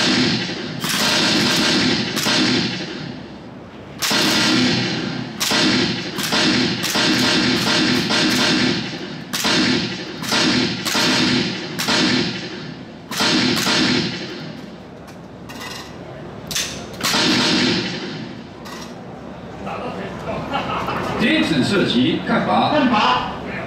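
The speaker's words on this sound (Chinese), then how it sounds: "开保险， 开始射击" Gunfire on a shooting range at the TADTE 2015 Taipei aerospace and defense exhibition: many sharp, loud shots fired at an irregular pace, some in quick clusters, with people talking in between.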